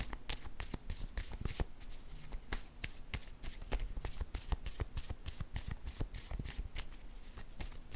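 A deck of cards is shuffled and cards are drawn during a tarot-style reading, giving steady riffling and flicking bursts with sharp slaps throughout, close and fairly quiet, with no speech.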